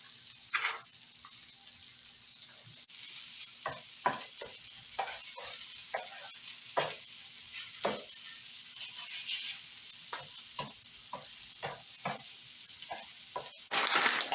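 Oat pancakes fry in a pan over moderate heat, giving a steady close sizzle with intermittent scraping and tapping clicks from utensils, no voices.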